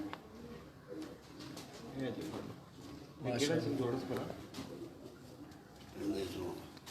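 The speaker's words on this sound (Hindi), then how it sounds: "बेमिसाल कबूतर, लाजवाब।" Pigeons at a breeder's home loft coo softly in low, rolling phrases that come and go beneath steady nearby talk, with a few sharper wing or handling noises.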